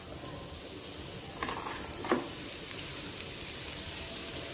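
Butter sizzling on a hot iron tawa, a soft steady crackling hiss with a couple of small pops, heard alone without talk.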